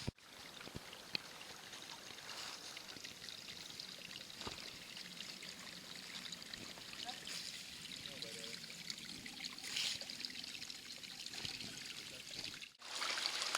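River water trickling and flowing near a campsite, a soft continuous babble and splash at low level, mostly alone with no clear talk.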